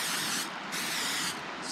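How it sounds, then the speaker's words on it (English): A steady hiss of aerosol cooking spray on bread, continuous with two brief dips in pressure, close by and fairly loud. "Spray it like that so that it'll help the bread to get toasty."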